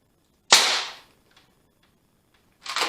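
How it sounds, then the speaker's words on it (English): A pneumatic nailer drives nails into bird house wood, one sharp close crack with a short hissing decay, a faint tick, and then a second shot starting near the end, with no talk. "I'm only nailing this again just to keep it there"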